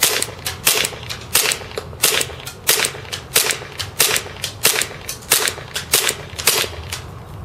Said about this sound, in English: I'll shoot it over my left hand, show you guys this side.